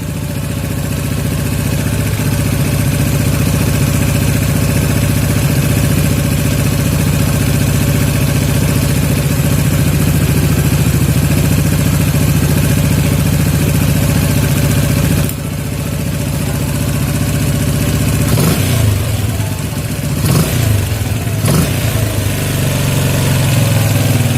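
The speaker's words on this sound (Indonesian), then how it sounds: "Nah, untuk mesinnya agak lambat turunnya ya." Yamaha Jupiter MX motorcycle engine idling steadily under carburetor adjustment, with a continuous close, loud rumble, a shift in tone midway and a few short throttle blips near the end.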